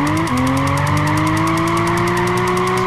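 Toyota Aristo engine in Gran Turismo 5 climbing steadily in revs after a quick gear change, a loud, close, continuous whine rising in pitch, with tire noise underneath and no voices.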